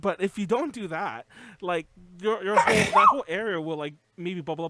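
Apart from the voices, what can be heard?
sneeze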